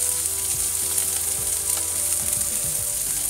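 Chopped garlic and green chilies sizzle in hot oil while being stirred, a loud, steady close hiss with repeated scraping strokes of the spoon against the pan.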